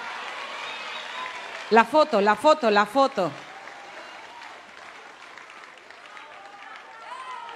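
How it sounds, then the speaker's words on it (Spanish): A short, rhythmic burst of audience clapping in unison at a festival show in Acapulco rises over a busy, chattering crowd, then fades back into ongoing voices and background noise. "El aplauso fuerte"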